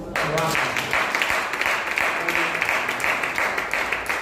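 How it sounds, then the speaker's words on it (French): A church congregation claps and cheers for the Lord in dense, sustained applause, with voices mixed into the noise throughout. "Dis gloire à Dieu, acclame pour le Seigneur."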